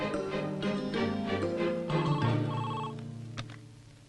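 A telephone rings repeatedly on its own, loud and close, the tone fading toward the end with no voices over it.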